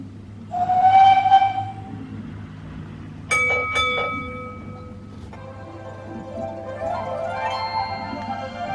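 A small Disney toy train whirs along its track, giving a short whistle toot, then a series of high electronic horn and bell tones over a steady motor hum.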